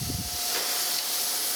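Coolant mist sprays in a steady broadband hiss across a surface grinder pass on a hardened taper gage, loud and continuous with a faint low rumble beneath and no voices.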